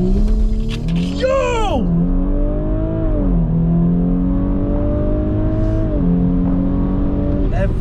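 A tuned 454 hp Audi B9 S4 launching hard under launch control, a loud close engine roar climbing through the revs with several quick gear shifts dropping the pitch, heard from inside the car over excited voices.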